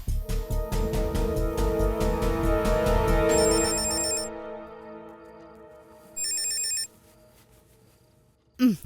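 A telephone bell rings in long repeated trills, then goes quiet before two brief bright rings sound in a dubbed Tamil movie scene, close and clear with no speech over it.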